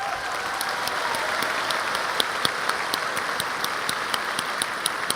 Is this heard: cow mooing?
no